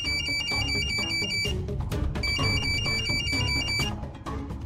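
A mobile phone rings with a repeating bright electronic ringtone pattern in two bursts, playing over background music, fairly loud with no speech.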